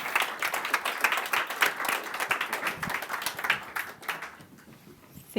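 An audience at a blockchain conference session claps in a dense, continuous round of applause that thins out and fades over the last second.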